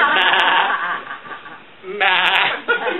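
A person mimics a mountain goat bleating on a dark switchback in Olympic National Park: a couple of drawn-out, wavering nasal bleats, close and loud, the voice imitating the animal.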